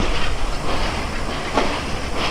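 The Titumir Express rumbles and clatters steadily nearby as it departs Rajshahi railway station, a dense rolling noise with a brief hiss in the middle.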